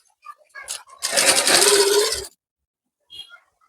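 A sewing machine stitches a strip of cloth onto a garment panel. After a few short clicks it runs fast in one steady burst of about a second, close and loud, then stops, followed by a small clack.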